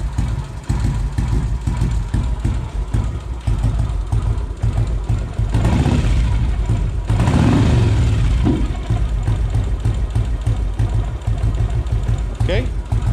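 A Royal Enfield Classic 500 single-cylinder motorcycle with a Hitchcocks Performance setup idles low and steady on first start, a continuous throbbing rumble with a brief swell in the middle, while someone talks over it.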